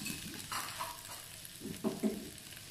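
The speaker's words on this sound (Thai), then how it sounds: "แล้วก็ผัดให้ผสมสุกนิดนึงค่ะเราจะผัดให้ผักของเราสุกนิดนึงนะคะ" Onion, chili, tomato and kale being stir-fried in a pan, with a soft sizzle under a few scraping stirs and two louder utensil knocks near the end, fairly quiet and close.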